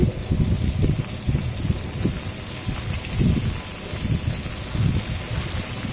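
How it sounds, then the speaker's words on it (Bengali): Pointed gourd and potato pieces fry lightly in oil in a pan, giving a steady, close hiss with soft crackling bursts throughout and no talking. "পটল আলুটাকে ভালো করে হালকা আঁচিয়ে ভেজে নিচ্ছি"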